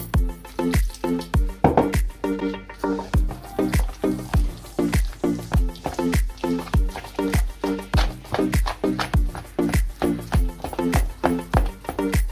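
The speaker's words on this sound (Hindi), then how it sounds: "तो थोड़ा सा हम इसके अंदर पानी और डालेंगे।" Water is poured into pakora batter and mixed by hand in a steady rhythm, a wet squelching slap repeating roughly every half second, loud and close, with no talking.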